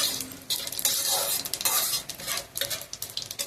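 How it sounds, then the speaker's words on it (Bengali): Cumin seeds hiss and sizzle as they temper in hot oil for a fish curry, with a spoon scraping and stirring through the pan in steady, close bursts. "জিরে ফোড়ন দিলাম।"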